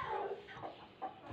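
Chickens clucking softly, a group of young chicks separated from a hen, with short, faint, irregular calls and no talk.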